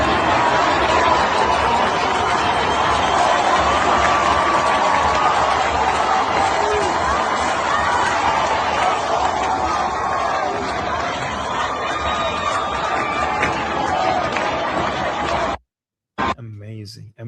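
A large crowd gathered on the west side of Tehran fills the scene with a dense, continuous roar of many voices and chatter, steady and loud throughout before cutting off abruptly near the end.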